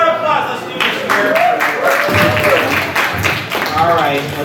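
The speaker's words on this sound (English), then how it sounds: "Give him a round of applause." Applause from a convention crowd at an anime con game-show panel, a loud, continuous wash of clapping lasting several seconds with some voices mixed in.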